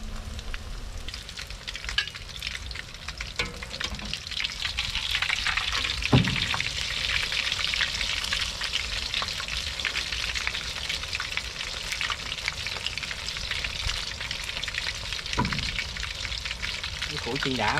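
Battered field shrimp fry in a non-stick pan with a loud, continuous sizzle throughout, broken by occasional stirring or scraping, while people talk over it.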